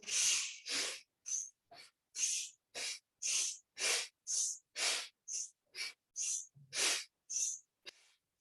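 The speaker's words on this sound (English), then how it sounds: "Just see if you can focus on the sound of your breathing." Slow, deliberate breaths in a women's breathing class, around fifteen separate airy exhales and inhales in a steady rhythm, close and clear against silence.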